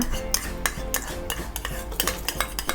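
Spoon briskly stirring a cup of dipping sauce with soy sauce added, a quick run of sharp clinks and scrapes against the cup, close and continuous with no talking.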